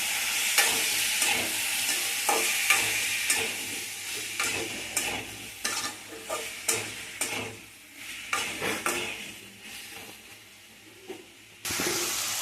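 Purple cucumber curry being stirred and sautéed in a pan, with a steady sizzle under repeated scraping strokes of a spoon against the metal, fairly close and continuous.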